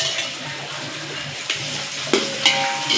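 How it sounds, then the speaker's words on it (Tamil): Onions sautéing in a pan for mandi biryani give a steady broadband sizzle with a few brief clinks and scrapes of stirring, close and continuous, with no talk. "ஆனியன் நல்லா வதங்கிட்டு இருக்குது பாருங்கள், இன்னும் வதங்கணும்."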